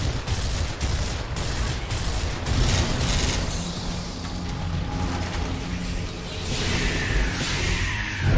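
Rifle fire crackles and pops almost continuously in the Gears of War video game, mixed with mechanical clatter and whooshes over a dense battle din.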